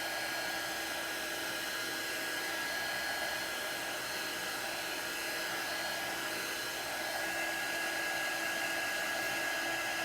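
A hair dryer blows steadily on a chalk craft project, a constant close whooshing roar with a faint high whine that runs unbroken for the whole stretch, with no talking over it.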